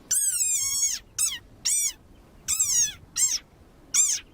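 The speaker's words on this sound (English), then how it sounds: "Like this desert rain frog. Squeaking viral sensation." A desert rain frog gives six sharp, high squeaks in short bursts with brief pauses between them, close and loud against a quiet background.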